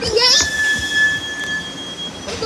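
A passenger train arriving at Elkins with steel wheels squealing against the rails: a loud, sustained high-pitched screech over a rumbling rail roar, with brief clanks near the start and end.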